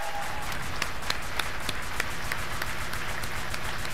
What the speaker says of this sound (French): Et on peut l'applaudir, The Boshi.